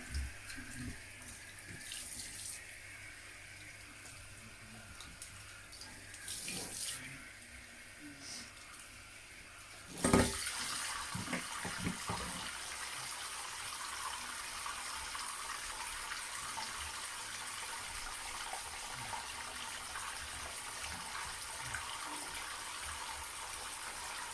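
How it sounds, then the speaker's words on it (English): Tap water runs steadily in a salon sink during a head wash. The gush starts softer, then grows louder and fuller about midway and stays constant, with brief muffled handling sounds near the start. "so I'm just going to wash his head a little bit"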